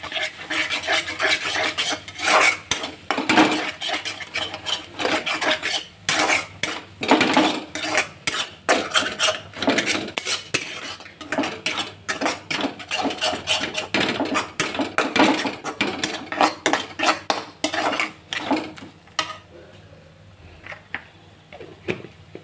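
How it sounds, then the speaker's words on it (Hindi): Three beaten eggs cook in a pan while a spatula scrapes and stirs them constantly, producing rapid, rhythmic metallic rasps and clatters that thin out near the end. "इसके बाद ये अंडे को अच्छी तरह भून"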